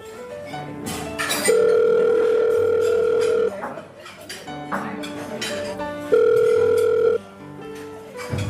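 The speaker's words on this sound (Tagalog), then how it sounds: "Tawagan ko nga si Laida." A phone call's ringback tone sounds in two long steady beeps separated by a pause, clear and close over faint background music, with a short voice in between.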